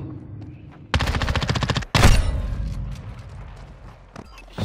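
A shotgun firing in Modern Warfare 2, one rapid burst of loud close shots followed by a single heavy blast, with a faint voice murmuring in the background.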